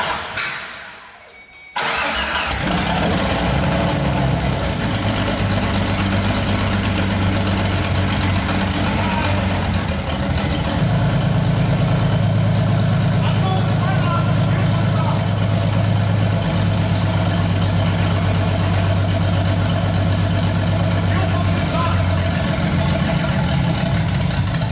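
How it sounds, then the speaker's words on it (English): A 1988 Jeep Wrangler YJ engine cranks and catches after a short quiet moment, then settles into a loud, steady idle close by, with the rumble thickening partway through. "we got the motor running"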